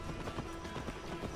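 Horse hooves clopping at a steady run in Assassin's Creed Valhalla, a dense, continuous galloping rhythm under busy game noise.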